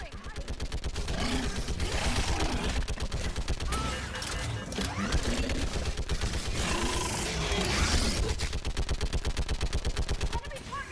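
Sustained rapid gunfire in Mass Effect 3 combat, loud machine-gun bursts rattling continuously for the whole stretch with brief voices shouting amid the shooting.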